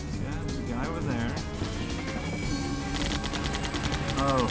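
Gunfire in a video game comes as repeated bursts of shots under a person talking, with game sounds and music mixed in throughout.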